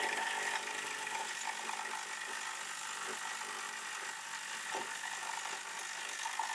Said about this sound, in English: put the power on, and the motor works